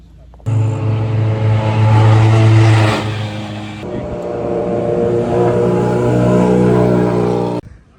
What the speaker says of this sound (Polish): samochody z otwartą kabiną, także kilka ujęć na te oto bolidy